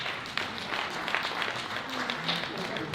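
Applause at a Democratic nomination convention in Yonkers, a moderate patter of clapping from a modest crowd with talking mixed in, fairly even over a few seconds.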